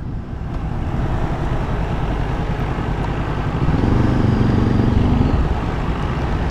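A 2014 Honda CB500F motorcycle engine runs steadily and loudly up close, a continuous low rumble that swells slightly in pitch and level midway through, with no talking.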